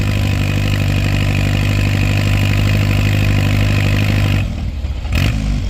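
A small antique tractor engine running loud and close during a tractor pull, a steady droning idle with rhythmic clatter, then it drops away into a quieter rumble near the end.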